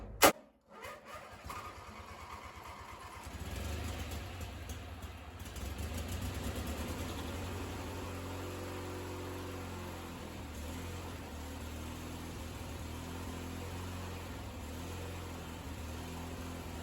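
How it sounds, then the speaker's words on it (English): A small engine on a homemade power wheelbarrow cranks briefly after a sharp click, then catches and settles into a steady, close idle that runs continuously with a slight surge, without talk. "I'm just going to jump right on the starter, see if she cranks over first, and hopefully it starts when it cranks over."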